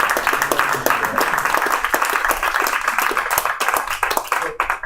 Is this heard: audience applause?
yes